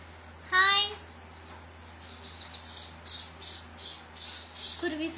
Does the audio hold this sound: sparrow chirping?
yes